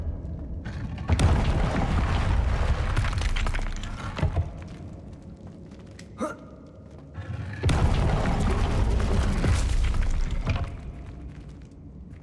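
The Confringo spell in Hogwarts Legacy sets off loud, rumbling booms in two long surges, each holding for a few seconds, with quieter crackling and debris between them.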